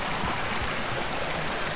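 A mountain stream flows at a wild-camping water collection spot in the UK, making a continuous, close rushing and gurgling hiss at a steady level with no voices.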